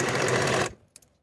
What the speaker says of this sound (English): I'll sew closed the gap in my stitching following the original stitching line.